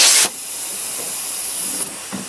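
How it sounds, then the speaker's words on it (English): A steady, loud hiss of compressed shop air escaping through an engine crankcase during a leak-down test, with a sharper burst at the start and a few faint knocks near the end. "to hear the air escaping through the crankcases"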